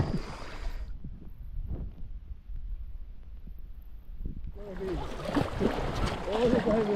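Kayaking on the Ivindo River in Gabon, with paddle splashes and flowing water. The water and paddling noise comes up close and fairly loud in the second half, and voices talk over it.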